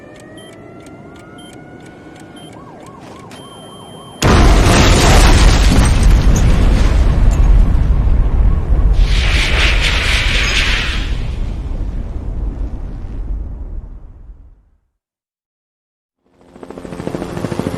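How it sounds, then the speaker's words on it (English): A sudden loud boom from a Twisted Metal 2 cutscene explosion erupts after quieter tones, followed by a long roaring rumble that slowly fades to silence before sound resumes. "I'm scared the explosion will hurt."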